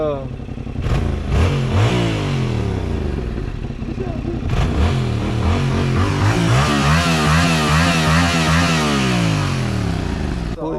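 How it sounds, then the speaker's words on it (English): A loud, rough modified motorcycle engine idles and revs up and down repeatedly, close by, its throaty rumble rising and falling in pitch. "That's the boy Henry with that loud ass motorcycle he just rigged up"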